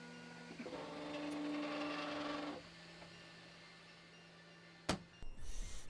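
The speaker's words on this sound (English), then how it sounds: "So I will be back in just a second when we are done printing the new parts." A 3D printer prints parts for a bike phone mount, giving a steady mechanical whir with stepper-motor tones for about two seconds, then quiet hum and a few sharp clicks and rattles.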